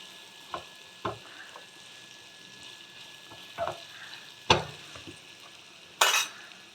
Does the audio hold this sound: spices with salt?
yes